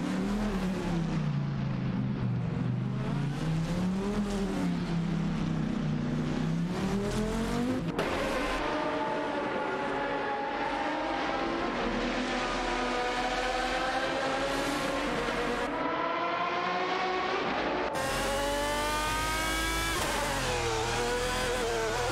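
AI race cars in a racing video game roar past one after another, their engine notes rising and falling, loud and continuous throughout.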